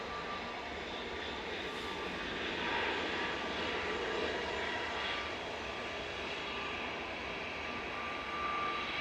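An EasyJet jet airliner departs Manchester Airport for Naples, its engine roar a steady, fairly distant wash that swells slightly midway and holds throughout with no voices over it.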